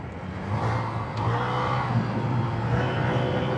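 A Honda PCX 160 motor scooter revving its throttle, a smooth continuous engine whir rising and holding, moderately loud and close, with no talking.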